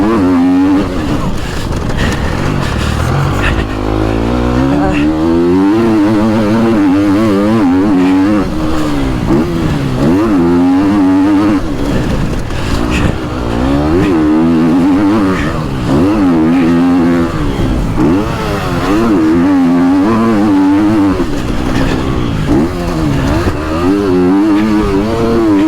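A motocross motorcycle on a track at Trofarello, Italy, its engine loud and close, revving and accelerating in repeated rising and falling surges throughout.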